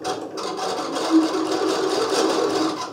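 A sewing machine stitches a seam on a blouse made from an old dress, giving a steady, close whirring drone with no pauses.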